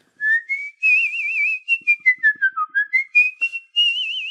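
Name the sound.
person whistling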